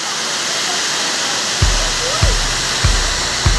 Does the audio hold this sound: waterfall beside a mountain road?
yes